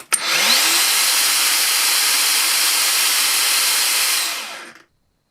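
A Makita 36V 9-inch cordless angle grinder spins up at 6,000 RPM, a loud, steady broadband whine that holds evenly for about four seconds before winding down and cutting out.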